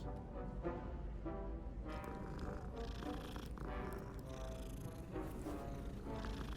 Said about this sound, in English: Oh, there's different cats.